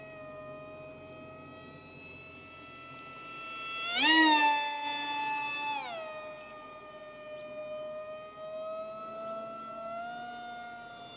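An RC Powers foam F-22 Raptor model plane, version 5 built from Dollar Tree foam, flies at full throttle through a tight turn, its electric motor whining steadily and rising sharply in pitch before settling back, loud and alone.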